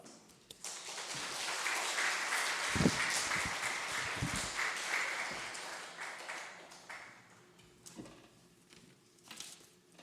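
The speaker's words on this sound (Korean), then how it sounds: "환영의 박수 올려드리겠습니다." A church congregation at Sunday morning worship gives a soft, scattered round of applause that swells and then fades, distant and fairly faint, with a few louder thumps near the middle.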